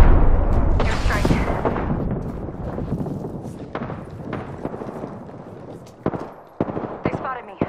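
Air strike explosions in a shooter game, a heavy rumbling blast up front followed by a string of sharp booms and gunfire-like cracks, loud and dense, with voices talking over the barrage.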